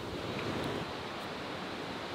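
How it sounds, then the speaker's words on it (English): Wind roars and buffets against the microphone in Loen, Norway, in a steady, loud rush of noise, with no voices. "Ooh, it's quite windy."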